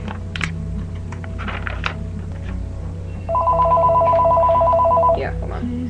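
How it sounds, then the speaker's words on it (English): A telephone rings with a steady electronic trill for about two seconds, following a few soft taps and clicks in a room. Talk fades in and out in the background. "Sorry, that was a phone call."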